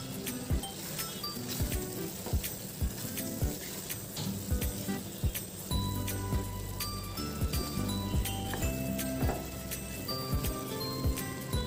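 A spoon stirring matar paneer gravy with fresh coriander in a pan, making regular metallic clicks and scrapes over a soft, continuous sizzle.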